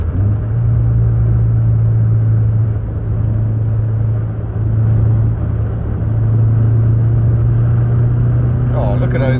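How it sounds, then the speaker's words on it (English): A 1997 Subaru Impreza HX-20S, non-turbo, heard from inside while driving on the road: a loud, steady low engine growl and drone with road rumble, constant throughout with little change. "This has definitely got that grrr, that growl of the rally spec cars."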